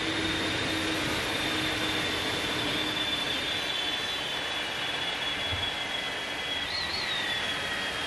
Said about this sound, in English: You hear them engines spooling down.